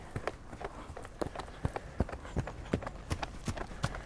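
Hooves of an eight-year-old Selle Français stallion that competes in 1.40 m show jumping, striking the ground in a steady, even rhythm, close and crisp with no talking.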